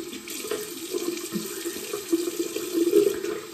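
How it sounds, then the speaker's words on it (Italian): Steady running water from a tap splashes into a sink, a continuous close hiss and patter with no voices. "Scusate il rumore dell'acqua"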